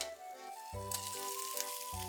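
Eggs frying in a lunchbox-cooking pan, steam-cooked under a lid and then flipped to cook both sides: a steady, bright hiss of sizzling oil that runs beneath tonal background music, with no talking.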